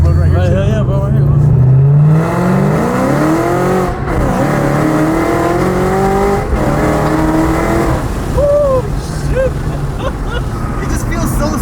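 An E85-fuelled Shelby GT500 on FBO tune accelerates hard, its engine climbing through the gears loud and close from inside the car, with people talking over the roar.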